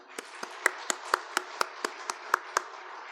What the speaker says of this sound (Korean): 우리 선생님들을 위해 다시 한번 큰 격려의 박수 부탁드립니다.